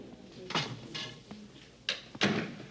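Indoor door being closed, with a few soft handling bumps and knocks followed by a firmer latch or thud near the end, fairly quiet and close with no speech.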